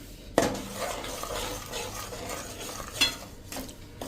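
A spoon stirs and scrapes through edible gum, roasted wheat flour and grated coconut in a pan for methipak, with a sharp metallic clink at the start and soft scraping and light sizzle after.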